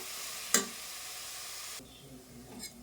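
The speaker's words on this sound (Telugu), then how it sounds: "ఇప్పుడు ఫ్లేమ్ స్లోలో పెట్టుకొని కొద్దిసేపు ఫ్రై అవనిద్దాము" Mango chutney sizzles steadily in a pan over a low flame, a soft continuous frying hiss with a single sharp clink of a utensil near the start, close by and without speech.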